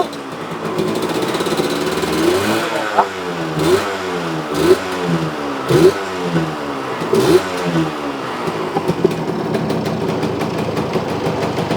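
A restored vintage Yamaha RX100 motorcycle engine starts and revs repeatedly in short bursts, rising and falling in pitch before settling into a steady idle, close by with no talking.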